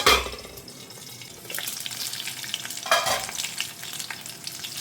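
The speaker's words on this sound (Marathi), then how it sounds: "कढीपत्ता घातला आनी ड्राय रेड चिली घातला हांवें." Curry leaves and dry red chilies crackle in hot oil for a quick veg side dish, a close, lively sizzle with bursts of spitting and a couple of louder flares.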